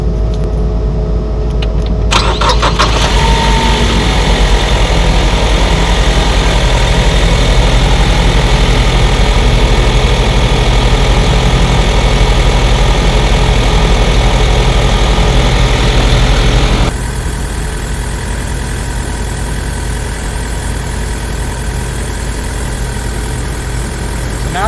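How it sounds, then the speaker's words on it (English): A vehicle engine idles steadily and close for about 25 seconds after startup, with a low constant drone, a brief keys-like jingle near the start, and a slight drop in level partway through. "Now that the vehicle's running"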